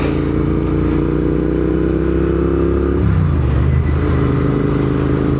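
A Royal Enfield Interceptor 650 engine drones loud and close while riding, then shifts gear midway, its steady low hum briefly dipping and settling into a new pitch.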